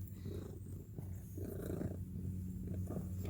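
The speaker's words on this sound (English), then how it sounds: "Rubish can't speak, but she can purr very loud." A cat purrs loudly and continuously up close, a deep rumbling rhythm with no talking.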